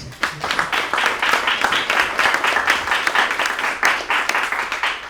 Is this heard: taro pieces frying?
no